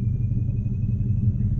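A car engine rumbles steadily at idle, a low continuous drone with a faint thin whine above it, close by and without speech, as the car waits near a small aluminium fishing boat.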